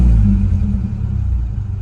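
Nissan 240SX engine revving under throttle and stumbling, running rich, a loud close rumbling surge that sags and wavers unevenly, with no talk over it.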